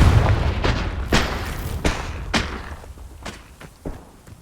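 Confringo fire spell blasts in the Hogwarts Legacy video game: a string of sharp booming impacts, several loud hits early and fainter thuds trailing off, over a low rumbling game background.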